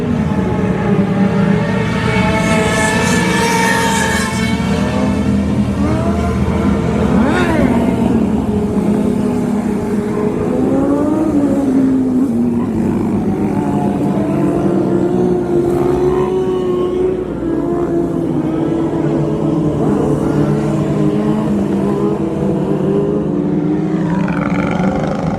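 A group of motorcycles doing tricks revs their engines loudly and continuously, the harmonic engine pitch sweeping up and down throughout with no talking.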